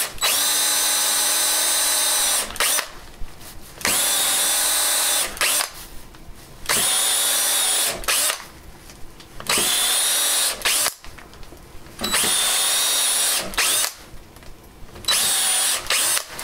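A power drill with a 1.5-inch spade bit bores into a wooden lamp base. It comes in loud, close bursts of whining, a couple of seconds each, with brief pauses between them and no talking.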